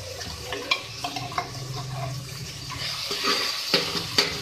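Chopped tomatoes, green chilies and ginger garlic paste fry in a pan with a soft, steady sizzle that grows fuller toward the end, broken by occasional sharp clinks of a spoon against the pan.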